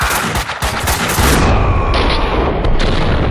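Heavy gunfire from the video game Max Payne 2, a dense burst of loud overlapping shots and booms that cuts off sharply about halfway, leaving a ringing decaying tail.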